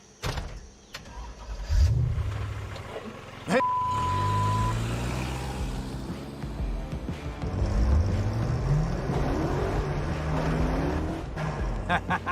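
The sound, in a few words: rebuilt car engine accelerating on the road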